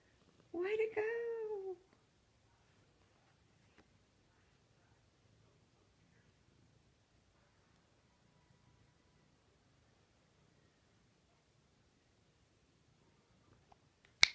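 A pet cat gives one clear, rising-and-falling meow close by in a quiet room, followed by long near-silence with faint rustles and a sharp click at the very end.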